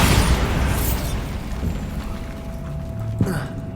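A Bombarda spell explodes in Hogwarts Legacy with a loud, low boom at the start that rumbles and fades over a few seconds, followed by a short thud near the end.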